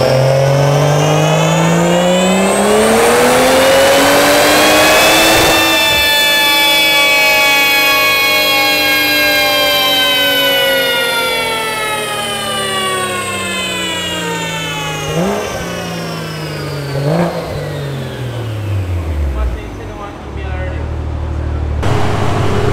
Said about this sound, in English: I'm about to start the car up.